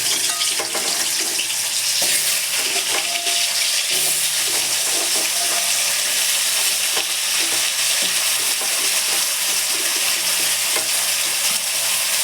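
Potatoes dropped into hot oil with panch phoron and a pinch of salt, frying with a steady close sizzle and occasional stirring scrapes throughout.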